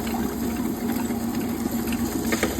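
Drained soaking water from rice pours steadily into a wet grinder already holding idli batter, a continuous close splashing gush over the grinder's low motor hum, with no voices.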